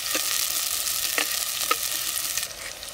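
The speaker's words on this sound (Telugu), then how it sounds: "ఉల్లిగడ్డ అయితే కొంచెం గోల్డ్ కలర్ వచ్చేదాకా వేయించుకోవాలి." Sliced onions frying in hot oil with cumin seeds for a village-style country-chicken egg masala, giving a continuous bright crackling sizzle with a few stirring clinks, close and steady with no talking.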